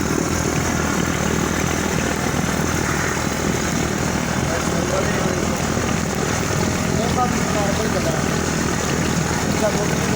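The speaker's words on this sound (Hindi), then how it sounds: "जनरेटर की आवाज़ें आ रही है, जो कुछ लोगों ने जनरेटर लगाया है।" Generators run nearby during a neighbourhood power cut, a loud, steady engine drone that holds for ten seconds under faint background sounds.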